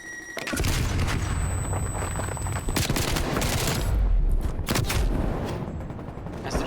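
An artillery strike and a dense barrage of gunfire in Call of Duty Cold War during a LAN esports match: continuous loud booms and rapid shots, with explosions swelling near the middle.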